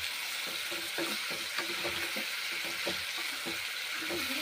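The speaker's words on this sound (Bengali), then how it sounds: "কুমড়োগুলো ভালো করে ভেজে নিচ্ছি এখন সর্ষের তেল দিয়ে" Pumpkin pieces frying in mustard oil with turmeric and salt, a steady close sizzle broken by repeated stirring scrapes throughout.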